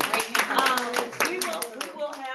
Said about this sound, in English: Y'all please give him a round of applause